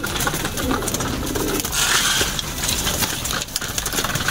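Pigeons coo in soft repeated calls close by, amid a busy, noisy loft background with rustling and wing sounds.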